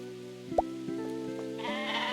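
Sheep bleating in a video game, a short loud bleat followed by steadier, tonal bleats that swell toward the end, heard alone without talk.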